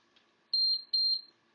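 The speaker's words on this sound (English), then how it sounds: "And then we'll get a couple beeps." Two clear high-pitched electronic beeps from a Schlage electronic door lock in quick succession, each lasting about a third of a second, close and distinct over a quiet background.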